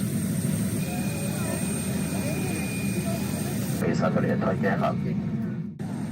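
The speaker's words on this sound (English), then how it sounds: "I forget what kind of plane this is. It's an airplane." Steady roar of an airliner's jet engines during boarding, a loud continuous drone with a faint high whine, while a voice talks over it briefly near the end.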